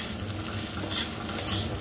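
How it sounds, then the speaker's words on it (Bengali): Cauliflower fries in a pan with a little oil and salt while a spoon stirs it, giving a soft, close sizzle with light scraping throughout the short stretch. "নুন দিয়ে আর একটু ভেজে"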